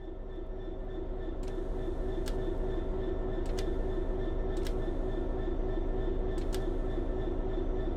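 A locomotive in Train Sim World 3 begins pulling away under throttle, a steady low mechanical drone with a constant hum and a few evenly spaced clicks or ticks repeating over it, no voices.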